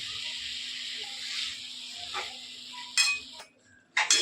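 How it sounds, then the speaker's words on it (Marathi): Quiet sizzling of cashews and potatoes in tempering oil in a pan, with scraping stirs and a couple of louder spoon strokes toward the end. "काजू बटाटा मस्त मिक्स करून घेतलंय फोडणीमध्ये"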